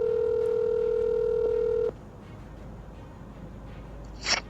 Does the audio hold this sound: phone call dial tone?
yes